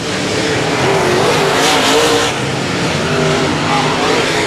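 Race cars lapping an oval speedway, a loud continuous engine roar with tire noise as cars run side by side, under an announcer's commentary.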